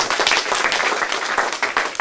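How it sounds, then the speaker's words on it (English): A group of cadets applauds together after a night of martial arts training, with a dense and fairly loud burst of clapping from start to finish. "Well done, guys, give yourself a big clap."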